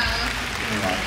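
An audience applauds at the Artelesia 2021 film festival, a steady dense wash of clapping throughout the short moment, with a voice speaking over it.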